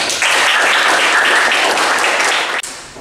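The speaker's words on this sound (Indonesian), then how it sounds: "tepuk tangan" Applause in a classroom during an automotive engineering teacher-training lesson: a dense burst of hand clapping from a group that lasts about two and a half seconds, then stops abruptly.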